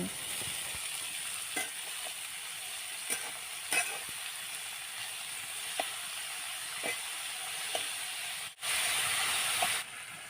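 Cut bitter gourd and potato fry in soybean oil in a pan, a steady close sizzle and hiss with scattered soft clicks and pops, swelling briefly louder near the end.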